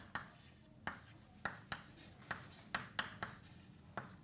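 Chalk or marker tapping and scratching on a board during a lecture on photodetectors, a series of about nine short, sharp strokes at an uneven pace, close and quiet with no talk.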